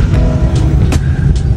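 Congested Lahore traffic gives a loud, continuous low rumble of engines nearby, broken by a few brief hissing bursts as vehicles edge past.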